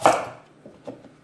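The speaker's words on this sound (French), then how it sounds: "la carotte qu'on va couper grossièrement" A carrot is coarsely chopped for a Cecotec Mambo food processor: one sharp, close chop followed by two softer taps, with no talking.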